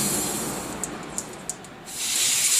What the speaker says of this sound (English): so now we're pushing the carbon cleaner in the other direction